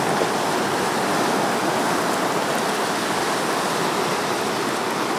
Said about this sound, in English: The only thing you should be hearing is the ocean and my voice.